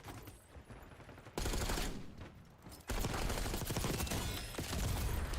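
Bursts of automatic gunfire from a Call of Duty Black Ops 6 multiplayer match, loud and sustained, with dense rapid fire that cuts out briefly and then resumes at full intensity.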